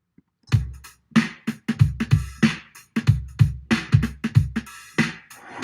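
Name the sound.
drum beat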